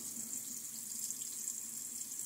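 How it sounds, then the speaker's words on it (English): Tap water runs steadily into a bathroom sink while hands are rinsed during a wet shave, a faint, even splash and hiss that continues without a break and with no talking. "Let's see how my hands feel after I kind of rinse it off."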